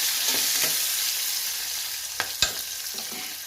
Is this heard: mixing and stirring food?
yes